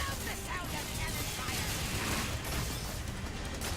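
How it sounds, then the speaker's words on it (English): Booming cannon fire and blasts from the video game Skylanders Imaginators roll together in a dense, continuous barrage that stays loud throughout. "I love the sound of cannon"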